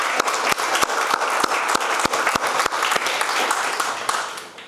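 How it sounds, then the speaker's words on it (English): An audience applauds graduating students with dense, steady clapping that holds at full strength from start to end, close and loud with no voices over it. "A big round of applause for all the students who made it."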